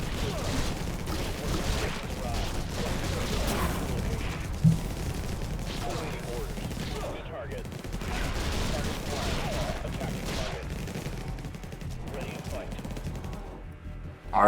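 Guns and rockets in the video game Infested Planet fire in rapid, overlapping bursts for a long stretch, loud and steady, with a voice talking over the barrage.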